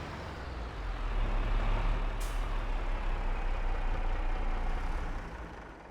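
A loud diesel truck with air brakes in Farming Simulator 22 rumbles steadily with a broad engine roar, and a short sharp air-brake hiss bursts out midway.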